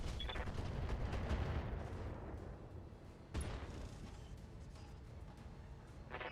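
Weapons firing in the Roguetech mod of the BattleTech video game, a dense, rumbling barrage of shots and booms with one sharp blast partway through, fading somewhat toward the end.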